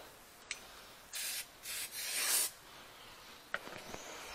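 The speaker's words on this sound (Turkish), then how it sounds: "Şimdi burayı bir temizleyelim bilye yataklarını" Bearing races in a Honda CB 125 F front wheel being cleaned, heard as a few short, close rubbing and scrubbing bursts separated by brief pauses, with a couple of small knocks.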